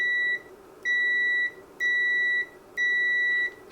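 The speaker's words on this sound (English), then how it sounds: "okay, so you have continuity. It should beep." A steady multimeter continuity-test beep repeating four times in even pulses, each about half a second long, clear and alone against faint background hum.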